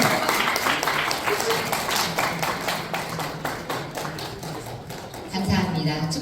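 Audience at a Korean appointment-certificate ceremony in an arts centre hall claps steadily for several seconds, a dense patter of hands under a presenter's voice, with a louder thud near the end.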